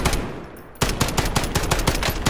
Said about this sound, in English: Oh, they're shooting at my back!